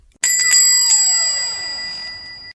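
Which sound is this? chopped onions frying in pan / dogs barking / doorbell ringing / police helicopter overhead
doorbell ringing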